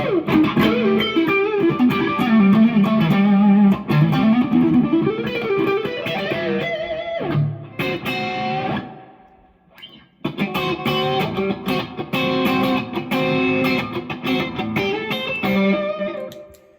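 A Smith Starbird electric guitar plays bright, clean Strat-style chord strums and riffs with a glassy, single-coil twang, pausing briefly midway before resuming.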